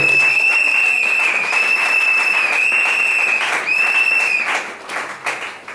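A wedding congregation claps in steady, dense applause, close and loud, with a bright sustained tone ringing over it before the clapping thins out toward the end.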